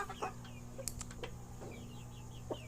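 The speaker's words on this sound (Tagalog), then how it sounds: "Itong mga alagang heritage chicken ko. Yang RIR, Rhode Island Red." Rhode Island Red heritage chickens cluck softly and intermittently at a little distance, with faint background hum and occasional higher chirps.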